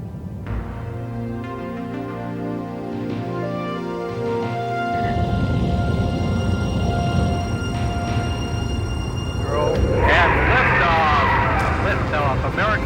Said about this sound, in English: Liftoff. Americans return to space as Discovery clears the tower.